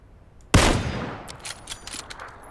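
A single sharp gunshot in the battle royale game PlayerUnknown's Battlegrounds, a loud crack with a long decaying echo, followed by faint rattling shots in the distance.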